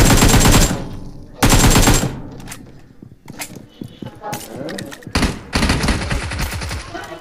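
Bursts of automatic gunfire from PUBG Mobile, a loud rapid volley at the start and another around the middle, then scattered shots and a final sustained burst, with players talking over the fighting.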